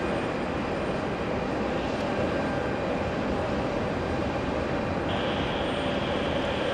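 Brussels Airlines airliner rolling along a taxiway at JFK after landing, close by with a steady loud engine drone and a high whine that rises near the end.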